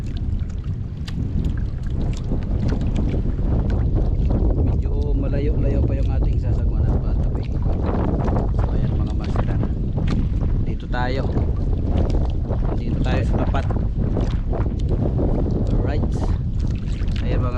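Steady wind rushing and buffeting the microphone throughout on a boat at very high tide, with boat engine noise and a voice talking now and then beneath it.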